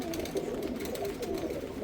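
Pigeons coo in a steady, overlapping murmur close by, kept in a loft on a rainy day, the soft calls rising and falling continuously with no talk over them.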